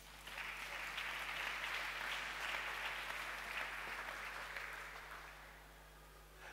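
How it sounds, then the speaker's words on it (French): Church congregation at a Sunday service applauding together, a steady mass of clapping from many hands that swells and then slowly fades, heard at a moderate distance with a low hum beneath. "Acclamons le Seigneur."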